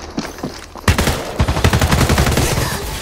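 Quiet scattered shots give way to a loud, steady stream of close automatic gunfire in Apex Legends, each round distinct in a fast regular rhythm.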